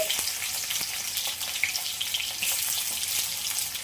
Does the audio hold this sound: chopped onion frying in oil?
yes